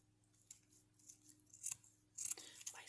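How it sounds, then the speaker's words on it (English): Several quiet, crisp snips of scissors cutting, close and sparse at first, then a quicker cluster of cuts near the end. "my scissors aren't working."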